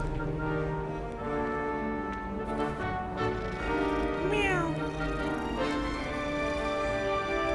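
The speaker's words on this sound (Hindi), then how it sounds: "अरे ये क्या है, बिल्ली?" A cat in the video game Hogwarts Legacy lets out a clear, rising meow midway through, set against steady game music and ambience.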